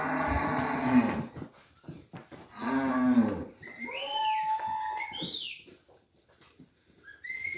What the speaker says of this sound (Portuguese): São só essas vacas.